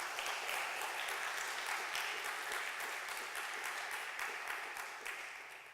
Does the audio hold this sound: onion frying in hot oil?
no